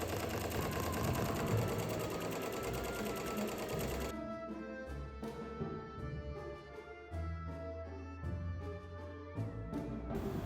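A sewing machine stitching patches onto a wool cape, a fast steady mechanical whir that gives way to a quieter, clattering stitch rhythm, heard alone and fairly faint.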